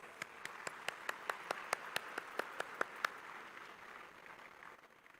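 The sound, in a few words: audience applause at a felicitation ceremony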